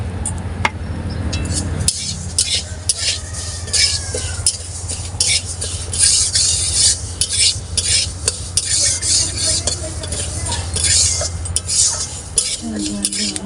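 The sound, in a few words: lentils being fried and stirred in oil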